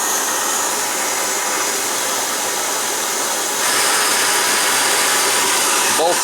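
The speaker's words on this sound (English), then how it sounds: "stoves are on full throttle" Coleman Feather 400B and Svea 123 liquid-fuel camping stoves burning at full throttle, a loud, steady roaring hiss that stays constant and swells slightly partway through, with no talking.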